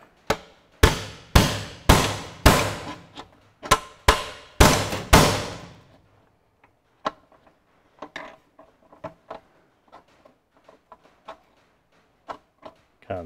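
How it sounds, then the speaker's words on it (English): Several sharp metallic hammer taps drive a bearing cup home with a 44 mm disc driver on a Ferguson TE20 tractor steering box, a run of evenly spaced loud strikes followed by lighter scattered clicks and knocks. "I've got a little disc driver here, a 44 millimeter disc driver, so I'll just give that a bit of a tap."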